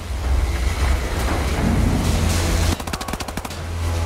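Rapid automatic gunfire from a newly picked-up weapon in the PC shooter Wolfenstein: The New Order, loud and continuous, ending in a sharp burst of distinct rapid shots.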